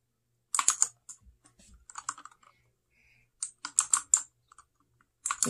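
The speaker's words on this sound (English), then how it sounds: "It click clacks." Keys clack on a Royal Kludge 61 budget mechanical keyboard: close, crisp bursts of typing in irregular clusters with short pauses between.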